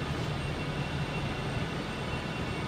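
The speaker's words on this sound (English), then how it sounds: "It's an SPT rail coming in." An SPT commuter train rolls into Glasgow Central station with a continuous broad rumble and hiss, loud and steady throughout, with no talking over it.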